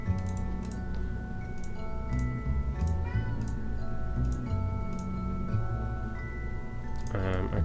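A big orange fluffy cat meows indoors over ongoing ticking and steady background music, with a clear drawn-out meow near the end.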